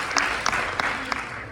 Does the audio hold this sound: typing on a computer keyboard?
no